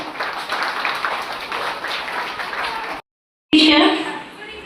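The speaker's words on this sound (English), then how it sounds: "Clap." Clapping from a school audience at a Teachers Day event as a pupil hands a flower bouquet to her teacher; a steady patter of hands runs for several seconds, breaks off briefly, then bursts back loudly.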